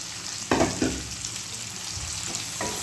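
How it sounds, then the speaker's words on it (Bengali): Capsicum frying with chicken in a pan, a steady close sizzle with a couple of louder bursts as the pieces are added and stirred, no talking. "বলার সঙ্গে সঙ্গে দেখলেন, এবার ক্যাপসিকামগুলো দিয়ে দিলাম।"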